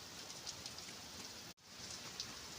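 Steady rain falls in a rural Odisha village, a dense continuous hiss of drops on surfaces with a brief break midway, no voices.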